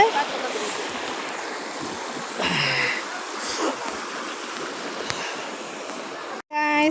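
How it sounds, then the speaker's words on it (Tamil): Water rushing steadily in the Karpaga Odai stream in Karpaga village, a constant close hiss with brief splashy bursts, a voice heard faintly near the end. "பாருங்கள் தண்ணி எப்படி போகுது."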